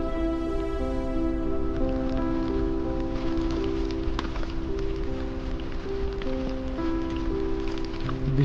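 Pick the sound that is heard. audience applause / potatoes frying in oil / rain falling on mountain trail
rain falling on mountain trail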